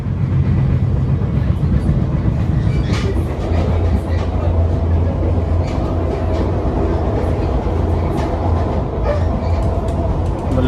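Inside a moving MARTA metro train in Atlanta: a loud, continuous rumble of wheels on track with rhythmic clicks and rattles of the car, steady throughout the ride.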